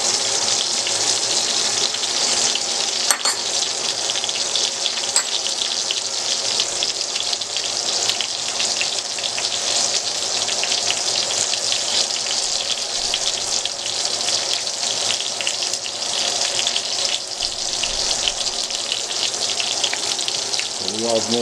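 Beef steak sizzles and spits in a hot pan as it is basted, a steady loud hiss running throughout with small crackles and pops.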